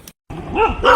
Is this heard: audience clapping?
no